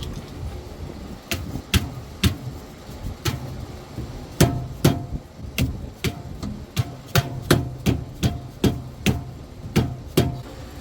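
Repeated sharp metallic hammer strikes while working on a G35 drift car build, irregular at first then settling into a quick steady rhythm, close by and loud.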